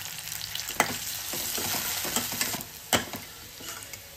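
Onions and curry leaves sizzling steadily in hot oil in a pan, with a few scrapes and clinks of a spoon stirring, close and fairly loud, no voices.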